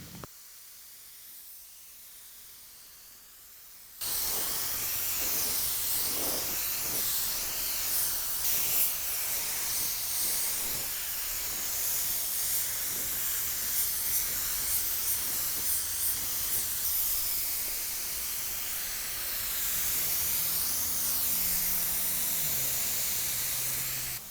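A paint spray gun lays metallic paint onto a car bumper, a loud, steady close-up hiss of atomized air that starts abruptly after a few quiet seconds and runs unbroken to the end, with no talking.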